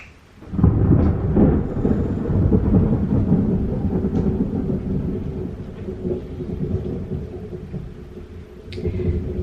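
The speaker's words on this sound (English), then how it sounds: "It's really rumbly and rainy outside, so if you hear all that thunder" Deep rolling thunder rumbles over a steady wash of rain, loud and continuous throughout with no talking.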